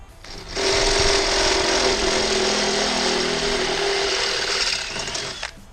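A power drill with a step bit bores through material in one continuous, loud, grinding whir lasting about five seconds, then stops abruptly.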